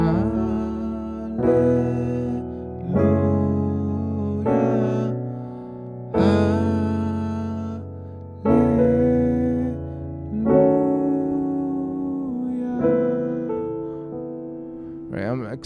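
Piano voicing gospel jazz chords moving from a major 2 to a minor 4, played as a slow sequence of about seven rich sustained chords, each struck and left to ring before the next, with no talking.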